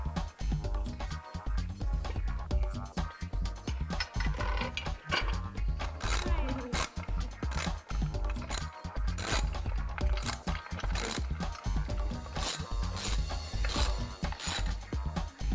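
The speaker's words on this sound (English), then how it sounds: "And Ryan is going to tighten the bolts." A ratchet tightening bolts during a motorcycle build, a continuous fast clicking pawl ratcheting back and forth with a dense metallic chatter, close and steady without talk.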